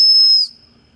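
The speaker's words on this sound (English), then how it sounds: "Pretty good whistle. That was actually pretty loud." Whistle on a Smith's Pocket Pal survival tool blown loudly outdoors: one sharp, piercing high-pitched blast lasting under half a second, then cutting off to quiet outdoor background.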